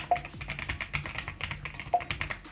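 Typing on an RGB mechanical keyboard at a desk, a close, irregular run of crisp key clicks with a few louder strikes.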